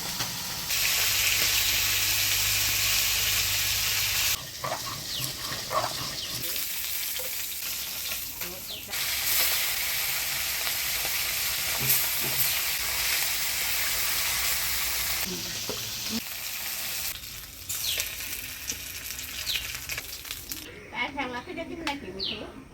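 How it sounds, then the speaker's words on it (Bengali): Small gulsha fish fry in hot oil with a loud, steady sizzle that fades and swells as it is stirred, while people talk at times and a bird chirps faintly in the background. "গুলশা মাছগুলা ভেজে নিলাম"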